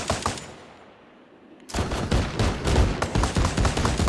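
Rapid bursts of vehicle-mounted machine gun fire in the military game Arma, loud and close, pausing briefly into a quiet lull before a dense, sustained stream of shots resumes.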